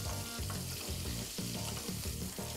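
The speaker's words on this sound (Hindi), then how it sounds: "अब हम डालेंगे 1 चम्मच जीरा, 2 कटी हरी मिर्चें, 2 लंबे कटे हुए प्याज। इसे हम अच्छे से चला लेंगे।" Cumin, cut green chilies and long-sliced onions crackle in hot oil for stuffed okra, giving a continuous close hiss with a low, rhythmic tonal hum underneath.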